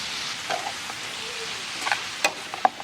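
Shrimp sizzling in a pan as Scotch Bonnet pesto goes in, a close soft hiss with a few sharp stirring clinks and scrapes toward the end.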